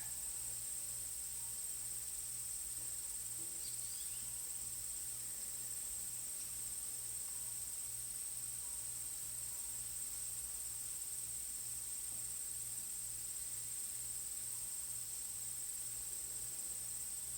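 A steady high-pitched insect drone, like cicadas or crickets, hums continuously over a quiet background with a faint low rhythmic pulse.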